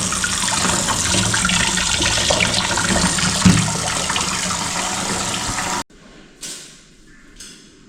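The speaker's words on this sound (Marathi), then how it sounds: "आता ह्याच्यामध्ये टोटल आपल्याला 10 लिटर पाणी भरायचं आहे" Water gushes steadily into a pest-control sprayer tank, filling it with 10 litres, for about six seconds, then stops, leaving a few faint knocks and splashes.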